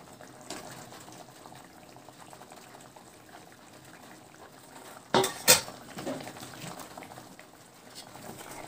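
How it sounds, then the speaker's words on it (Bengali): A bowl used to marinate fish for an aila fish and ridge gourd curry is rinsed and a little water poured in, quiet kitchen clatter followed by a brief, sharp splash and clink midway, with no talk. "মাছটা যে গামলাতে মেখেছিলাম সেই গামলাটা ধুয়ে একটুখানি জল দিয়ে দিলাম"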